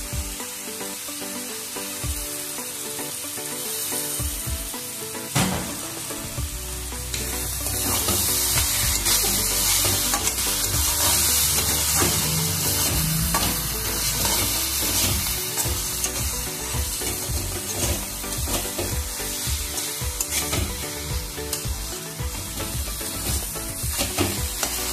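Bottle gourd curry with lentil dumplings cooking in a pan, sizzling and hissing steadily with repeated stirring scrapes, growing louder and denser partway through and staying close and continuous.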